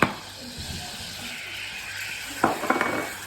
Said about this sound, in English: In a saucepan, melt your butter till it's runny. Then you mix in your flour.